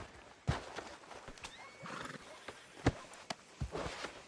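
A horse in Red Dead Redemption 2 snorts and whinnies while its hooves clop and thud irregularly nearby, with soft rustling between the sounds.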